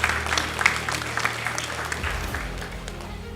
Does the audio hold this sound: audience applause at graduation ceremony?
yes